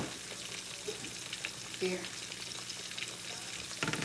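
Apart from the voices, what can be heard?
fish frying in a pan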